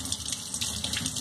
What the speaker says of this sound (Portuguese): iremos lavar em água corrente essa banana